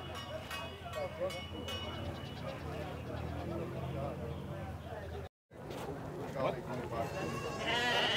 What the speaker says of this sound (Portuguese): As cabras bonitas aí, ó.